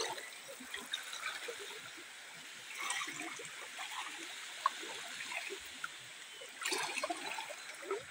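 A stream of water flows at a village fishing spot near Enugu, Nigeria, a faint, steady trickle and babble with brief louder splashing swells, heard from close by without talk.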